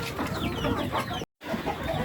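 Young Egyptian Fayoumi chickens cluck in an open rooftop shed, a close, busy scatter of short calls over steady background noise, with a brief cut partway through.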